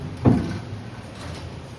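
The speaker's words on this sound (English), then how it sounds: "Go ahead and open the door for you guys really quick." A door on a Dicom MH2402 vertical cardboard baler is pulled open with a single close, heavy metallic clunk and scrape near the start, followed by a quieter mechanical rattle and faint background hum.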